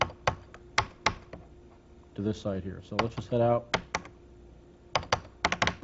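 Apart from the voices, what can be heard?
typing Control and Alt keys on Amiga keyboard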